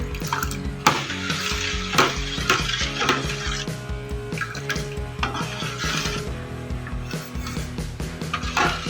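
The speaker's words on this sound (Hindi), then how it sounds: "अब हम इसको 4-5 मिनट इसी तरह चम्मच चलाते रहेंगे" Custard vermicelli stirred with a spoon in a pan, with busy clattering scrapes and clinks of metal on metal over a wet, bubbling background, steady and close throughout, no voices.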